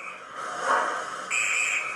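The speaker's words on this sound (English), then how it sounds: "guard's whistle." A shrill railway guard's whistle sounds in two blasts, the second higher and held, with a trilling edge over a soft hissing background; a sound effect from a model Black 5 steam locomotive's digital sound decoder.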